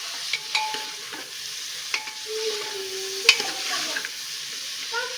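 Mutton pieces frying in a pan for curry, with a steady soft sizzle broken by occasional spoon scrapes and clinks as the meat is stirred, fairly quiet and close, no talking.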